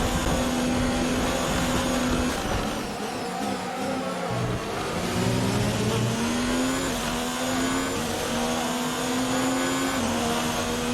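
A Formula 1 car engine from the F1 2019 video game at Sochi Autodrom, with internal combustion engine wear, drones steadily and loudly for about eleven seconds, its pitch climbing and dropping through repeated shifts.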